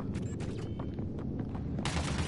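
Gunfire in the video game Mass Effect, a quiet rattle of rapid shots over a low rumbling background, ending in a louder burst.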